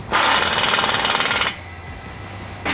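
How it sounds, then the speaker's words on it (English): Power tool tightening an exhaust clamp on a 2015+ Ford F-150 catback exhaust, a loud harsh rattling buzz for about a second and a half, then stopping, with a brief restart at the end. "you can completely tighten this"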